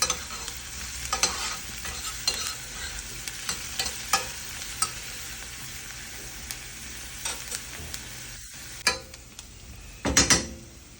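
Chopped onion and raw carrot frying in oil in a pan for stuffed pork tripe, a steady sizzle under repeated scraping stirs of a utensil against the pan and a few louder knocks near the end.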